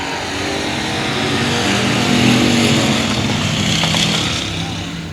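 Race cars running side by side on a speedway during heat races, a loud, dense engine roar that builds and holds then eases off, with possible faint voices underneath.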